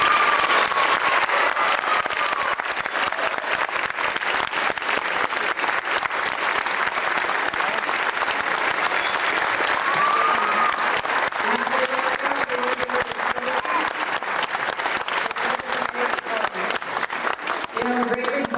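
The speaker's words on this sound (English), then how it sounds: "so I think we should all give her a round of applause" An audience at a high school orchestra awards ceremony gives a teacher long, sustained applause, a dense even clatter of many hands that holds steady throughout, with voices faintly mixed in.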